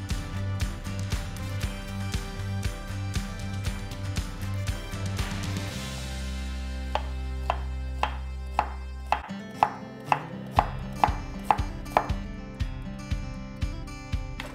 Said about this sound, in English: I'm gonna cut it in half just to make it easier. And then I'll cut it in half again and then cut some strips.